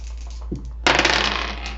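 Dice rolled across a desk, a brief soft clatter followed by a louder burst of tumbling and rattling that settles over about a second, close and with no voices.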